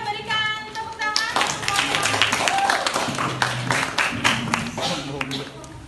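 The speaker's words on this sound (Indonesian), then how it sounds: "Teman-teman yang lain boleh berikan tepuk tangan" Classmates in a classroom applaud group 1 with a burst of scattered hand claps that begins a little over a second in and carries on, mixed with voices talking.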